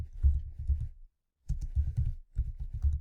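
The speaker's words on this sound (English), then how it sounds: "How about I type standard" Typing on a computer keyboard in a few quick runs of close, soft key clicks separated by a short pause, with no speech over them.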